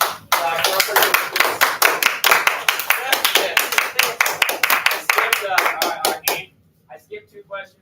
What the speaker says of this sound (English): Clap for our participants.